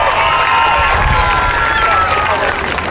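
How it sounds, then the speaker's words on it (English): A large crowd packed around a live performance cheers and applauds loudly, a dense wall of shouting and clapping that holds steady from start to finish. "Can we give these a massive round of applause?"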